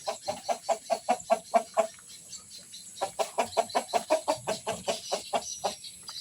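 Free-range village chickens (ayam kampung), breeding hens, cluck in steady rhythmic runs close by, with a brief pause before another series of repeated clucks.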